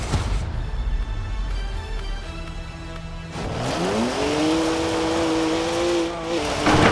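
BMW 1M engine in Forza Horizon 4, a steady motor hum that rises into a loud, climbing rev and holds a sustained drone near the end.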